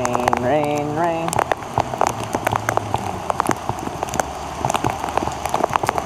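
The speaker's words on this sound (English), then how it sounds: "Can't hear me because of the rain?" Rain patters heavily and steadily on a nearby surface in St. Augustine, Florida, dense drops tapping throughout, while a person speaks briefly at the start.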